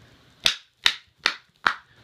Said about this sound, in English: And if I clap my hands,